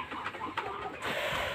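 Broiler chickens on a poultry farm, about 800 birds weighing around one kilogram each, giving a few soft clucks and bird calls over a dense background murmur.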